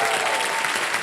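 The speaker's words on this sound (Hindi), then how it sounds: "क्या बात है, तालियां बज जाए इनके लिए।" On the Kaun Banega Crorepati Season 15 set, the studio audience breaks into loud, dense applause, a continuous wash of many hands for the contestant.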